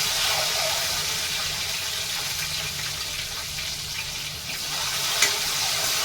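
Eggs frying in oil in a pan with a little turmeric, giving a steady, even sizzle that hisses on without pause from start to finish, with no talking.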